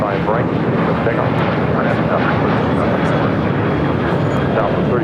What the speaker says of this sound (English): This is Southwest Airlines 3642 taking off to San Antonio, Texas on a 737-700.